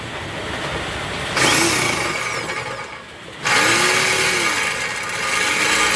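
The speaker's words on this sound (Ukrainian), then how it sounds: "зараз будемо сверлити отой ту гаєчку" A power drill bores into a small nut on a Volkswagen Caddy during a stabilizer bushing job, whirring loudly in two close bursts separated by a short pause, over a low steady background hum.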